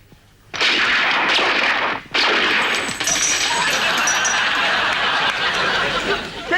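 Gunshots are fired at a tossed dollar bill in a comedy sketch. Loud, sharp cracks ring out in quick succession with echoing blasts and clangs, and a brief gap between bursts, under a dense, noisy sound bed.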